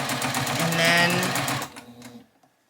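A sewing machine runs in quick, steady rhythmic stitching through a quilt sandwich, loud and close, then slows and stops, leaving a few faint trailing clicks.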